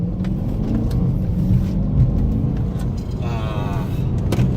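BMW M3 E90 driving with its engine revving, a steady loud rumbling drone from inside the car with a rising rev toward the end, no talk.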